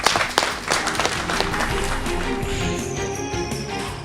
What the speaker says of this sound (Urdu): سر کے لیے بھرپور تالیاں۔